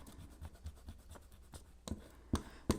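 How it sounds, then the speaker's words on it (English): Pencil lines on a paper quilt block template are erased with quick, soft rubbing strokes, faint and close, ending in a few sharper taps. "so I will erase these extra lines"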